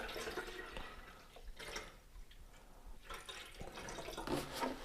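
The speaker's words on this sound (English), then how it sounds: "we'll put our water in first so we don't make it all foamy" Water pours into a container while a PPF slip solution is mixed for a Lotus Evora, a soft, continuous splashing trickle with gurgling surges, close and fairly quiet.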